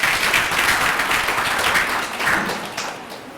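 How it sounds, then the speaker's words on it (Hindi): Applause from participants at a college workshop in a hall, a dense, even burst of many hands clapping at close range, holding steady before tapering off slightly at the end. "बहुत बढ़िया, तालियां बजनी चाहिए।"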